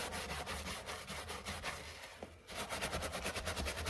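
A brush scrubs the leather of a Nike Court Vision sneaker in quick repeated strokes, close and fairly loud, with a brief pause partway before the scratchy rubbing resumes.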